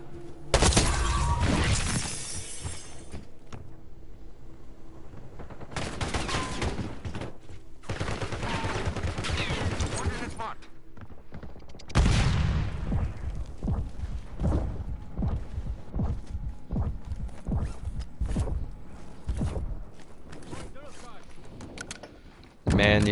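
Gunfire in the Black Ops 6 battle royale game, with repeated sharp shots and cracking bursts in several clusters, loud and close, mixed with game sounds while players talk over it.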